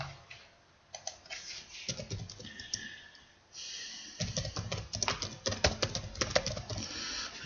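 Rapid, uneven bursts of computer keyboard typing as a long description is entered for a quote, close and fairly crisp, with pauses between flurries and no talking.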